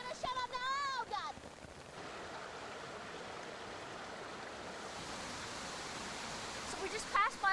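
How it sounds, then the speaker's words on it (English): A waterfall in a gorge roars as a broad, steady rushing wash of water, nearby and constant, with bursts of voices and wind buffeting at the start and end. "So this is the waterfall, you see, and I'm a little wet"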